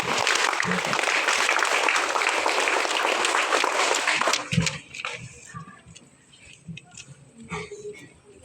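Students and staff clapping at a school council installation ceremony, loud and dense for about four seconds, then quickly thinning to scattered claps and faint room noise.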